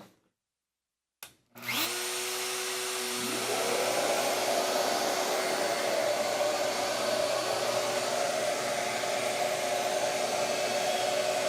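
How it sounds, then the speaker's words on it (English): An Origin handheld router routing a profile in wood spins up after a brief pause, its whine rising in pitch and then holding a steady, loud, continuous cutting roar to the end. "So we wanted to show you what routing a profile like this looks like without it."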